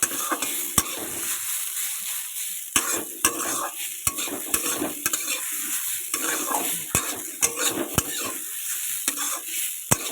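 Potatoes salted beforehand fry loudly in a hot pan over raised gas for aloo paratha filling, a steady crackling sizzle broken by sharp metallic clicks of stirring at irregular intervals, close and with no talk.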